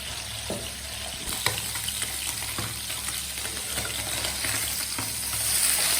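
Pabda fish frying in a pan give off a loud, steady sizzle close by, with scattered sharp pops throughout and no voices.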